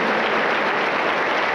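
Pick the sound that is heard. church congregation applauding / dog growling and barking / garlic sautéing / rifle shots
church congregation applauding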